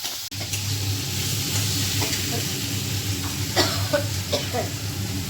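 Chopped onion and chili fry in a little oil, giving a steady close sizzle with occasional scraping as they are stirred, while a person talks over it.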